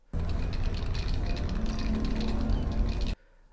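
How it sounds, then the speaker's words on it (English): Spray can being shaken in the Half-Life Alyx game, a steady rattling clatter that runs at even loudness for about three seconds and then cuts off abruptly, leaving quiet background. "Spray cans will rattle."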